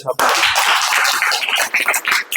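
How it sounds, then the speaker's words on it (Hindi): Primary school children clapping together in a classroom, a busy, loud patter of many small hands close by, with a little speech mixed in. "ताली बजा दो"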